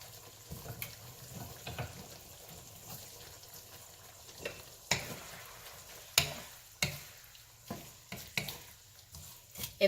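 White and green onions stirred into a simmering braised catfish sauce, with irregular sharp clacks and scrapes of a utensil against the pot over a quiet bubbling background, no talking.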